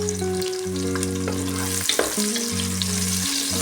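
Onion, a bay leaf and a green chili fry in a pan for green gram pulao, a soft steady sizzle under a droning tonal hum with a few stirring scrapes.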